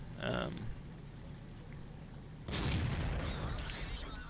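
A Panther II tank's main gun fires in a video game, a sudden loud broadband boom with a rumbling tail that cuts in midway and stays heavy to the end, after a quieter stretch with a brief earlier burst.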